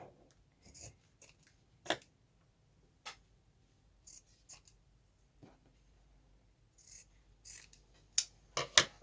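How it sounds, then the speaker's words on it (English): Scissors trimming the corners of a handmade journal cover, faint, sparse snips and rubbing at irregular intervals in a quiet room, growing a little louder with a quick run of cuts at the end. "I've actually forgot to cut my corners up here and down here"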